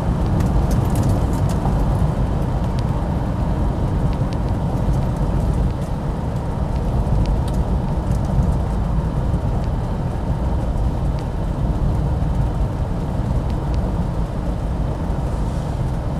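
Steady, unbroken low road rumble and engine drone fill the inside of a Rover P5B saloon as it drives along the road, with constant tyre and wind noise and no voices.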